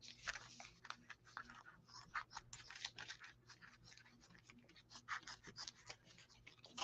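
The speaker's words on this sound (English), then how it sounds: "I'm going to use my old wonky scissors first." Old, wonky scissors trimming craft material close to the listener: a quick run of crisp snipping cuts, irregular but frequent, quiet overall with light crunchy edges.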